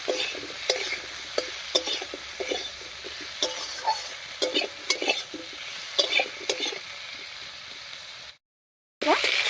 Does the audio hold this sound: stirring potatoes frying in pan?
yes